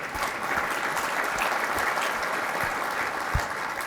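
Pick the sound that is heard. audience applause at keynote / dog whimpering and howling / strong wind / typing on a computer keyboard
audience applause at keynote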